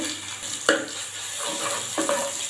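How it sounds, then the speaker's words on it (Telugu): Ginger garlic paste fries in a pan with a steady sizzle, while a utensil stirs and scrapes, giving a few sharper clinks and bumps against the cookware. "అల్లం వెల్లుల్లి పేస్ట్ పచ్చివాసన మీద ఫ్రై చేసుకోవాలి"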